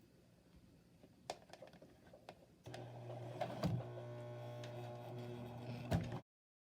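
A sewing machine labors while stitching a fabric face mask, quiet and scattered at first, then a steady, loud motor hum with a running mechanical whir and a few sharp clicks, alone with no talk.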